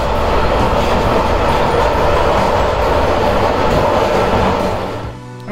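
A diesel locomotive-hauled train runs on a railway line in Slovakia, giving a steady, loud, close rumble with rhythmic clickety-clack of the wheels that fades slightly near the end.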